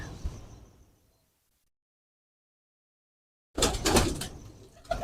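Pigeon calls in soft bursts at the start, then after a pause of silence a louder, closer burst of sound with a brief return at the very end, no talking.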